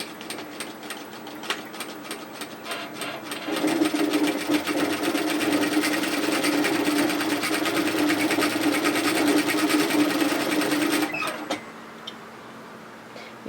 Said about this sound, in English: we're going to sew the centre front seam through to the crotch